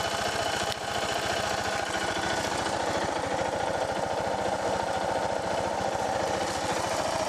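Suzuki DR650 single-cylinder motorcycle engine running after a valve clearance adjustment, a loud, steady, rapid thumping idle that stays close and constant throughout with no talking.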